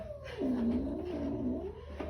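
An agitated, angry cat lets out a drawn-out, wavering low yowl with a slight rise and fall, close to the mic, fairly quiet and alone without speech.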